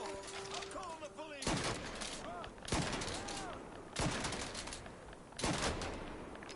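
Gunfire in the Mafia 3 video game comes in several loud, sharp bursts spaced a second or two apart, each a dense crackle of rapid shots, with a voice speaking between volleys.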